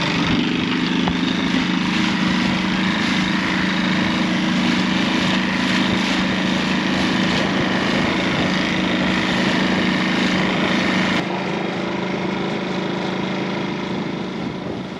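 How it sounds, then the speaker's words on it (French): A boat engine drones loud and steady with a constant mechanical hum, continuing without a break on a crossing to a pebble beach on Serifos in the Cyclades. "Le moteur tourne."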